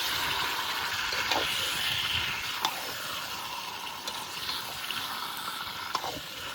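Marinated chicken frying with onions in a pot for biryani, a steady broad sizzling hiss with faint crackles throughout, close and continuous, no talk.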